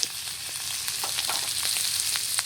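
Crab fries with spices in a pan, giving a steady bright sizzle with scattered pops and crackles, close and moderately quiet, with no voices.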